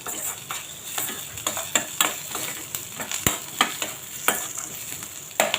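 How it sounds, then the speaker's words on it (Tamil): Chopped onions and cashews sauté in a hot pan for paneer butter masala: steady sizzling and frying with sharp, repeated clicks of a spoon scraping and stirring, close and clear with no talking. "வெங்காயம் வணங்கினதும் முந்திரி பருப்பு போட்டுக்கலாம்."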